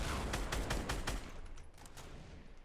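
Gunfire in the video game Fortnite, heard as a quick burst of several sharp shots followed by fainter scattered pops, with no talk.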